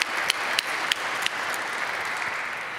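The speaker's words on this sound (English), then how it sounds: "I think it'd be great if we could give them all a big round of applause." Audience applause at the close of a governance forum honouring the forum team and speakers, a steady wash of clapping with a few sharper individual claps standing out, moderately distant in a large room.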